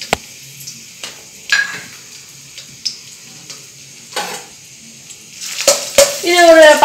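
Crushed ginger and garlic frying in hot oil for a mushroom masala gravy, with a soft sizzle, scattered clinks and scrapes of stirring, and the sizzle growing louder and busier toward the end.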